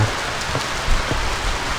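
Steady rain pours down outdoors while a raft survival camp's fire has gone out, a dense even hiss with scattered drop patter and no voices.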